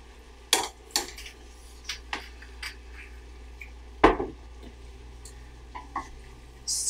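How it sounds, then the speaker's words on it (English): Greens seasoned with tamari and a splash of liquid are stirred in a hot pan, giving sparse metallic clinks and scrapes of a utensil against the pan at irregular intervals, fairly close, with no talking. "Stir that all around and it'll get nice and cozy in the pan."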